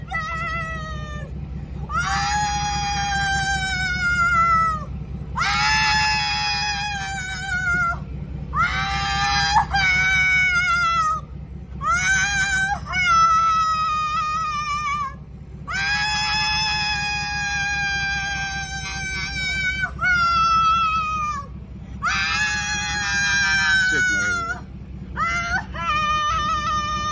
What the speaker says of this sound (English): when you done screaming, can you tell me why you screaming?